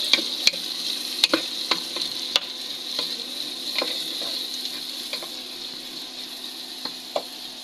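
Spices are added one by one to curry frying in a home kitchen pan, giving a quiet steady sizzle broken by sharp scattered ticks and clinks of stirring.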